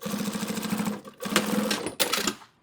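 A sewing machine nearly out of bobbin thread stitches in rapid, steady bursts, pausing briefly twice before starting again, close and loud with no voices.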